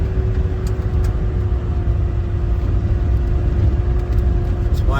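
A Land Rover with a five-speed manual gearbox idles and runs steadily off-road in Austin, Nevada, a constant low engine rumble with a faint whine, loud and unbroken throughout.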